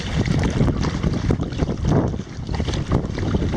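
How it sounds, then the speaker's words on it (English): Strong headwind buffets the microphone while kayaking on the sea off Pensacola Beach, a steady, close roar of rushing air with gusty swells and faint water movement underneath, no voices. "I'm not gonna bore you with this freaking wind"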